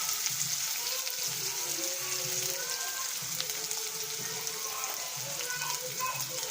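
Chopped onion, green chilies, coriander and peanuts fry in oil in a home kitchen while poha is being made. A soft, continuous sizzle runs throughout beneath a voice talking.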